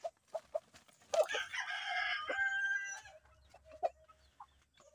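Chickens inside a hen house on a cobra chicken farm: scattered clucks, then a loud rooster crow lasting about two seconds, followed by more soft clucking and rustling nearby.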